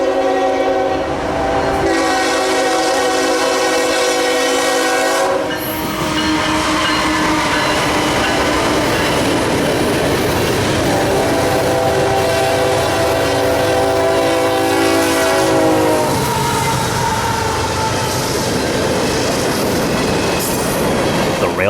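A CSX freight train passes close by on a double-track main line, its horn sounding long steady blasts at the start and again midway, over a continuous loud roar of wagons and wheel clatter.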